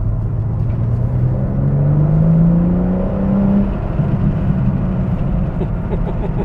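A BMW M4 Competition sports car engine drones low and steady, its pitch rising gradually as it accelerates, with a constant rumble underneath and no voices.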